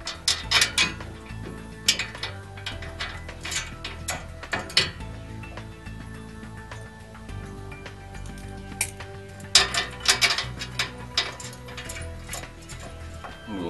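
Longer kit bolts being fitted through a trailer hitch onto a golf cart's foot plate, heard as rapid bursts of ratcheting clicks and metallic rattles, up close and repeated with short pauses in between.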